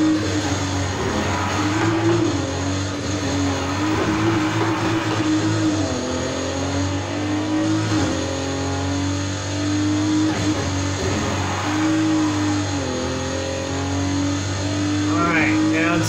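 A 1988 BMW M3 Evolution II drifting in Need for Speed Heat, engine droning and wavering steadily as revs rise and fall through long slides, continuous and close for the whole stretch.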